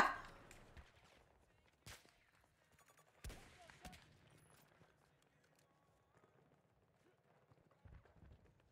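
Gunfire in the shooter game Battlefield 2042, with scattered sharp shots and bursts spread across the stretch over a quieter background, some close and loud, others fainter.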